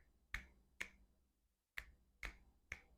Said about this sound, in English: just by snapping